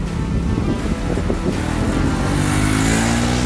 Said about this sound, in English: Then the sound on this motorcycle is a bit thick